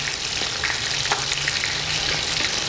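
Chicken pieces fry in hot oil in a pan, browning the skin, giving a dense, steady sizzle with small crackles and pops throughout, close and fairly loud.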